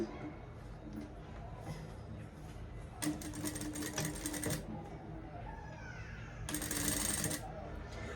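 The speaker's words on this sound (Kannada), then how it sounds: "ನಾನು ಇವಾಗ ಈ 1 ಇಂಚ್ ಕ್ಲಾತ್ನ ಈ ರೀತಿ ಫೋಲ್ಡ್ ಮಾಡಿ ಸ್ಟಿಚ್ ಮಾಡ್ತಾ ಹೋಗ್ತೀನಿ" A sewing machine stitches a folded strip of cloth in two short bursts of rapid, even clatter, close and fairly quiet, with a soft rustle of fabric handling between them.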